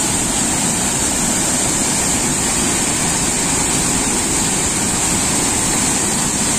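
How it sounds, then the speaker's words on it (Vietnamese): Hang Doi waterfall in Kbang, Gia Lai, pours into a stream with a loud, dense, unbroken roar of falling water throughout, and nobody speaks. "dòng thác nó đổ, sau khi đổ xuống thì chạy ra dòng suối này"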